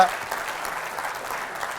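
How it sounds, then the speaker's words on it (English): Steady applause from a conference keynote audience fills the room, a dense, even patter of many hands at moderate loudness throughout the brief moment. "Give him an applause, please"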